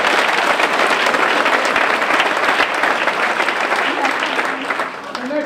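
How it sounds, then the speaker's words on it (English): A large lecture audience applauds in a steady, dense wash of clapping that holds loud and even throughout, tapering slightly near the end, with no speech over it. "Give yourselves a round of applause."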